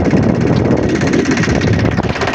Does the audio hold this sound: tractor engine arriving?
yes